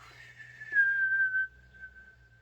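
A lone human whistle, a wavering tone that settles into a long steady pitch, fairly faint and close against a low background hum, with no speech.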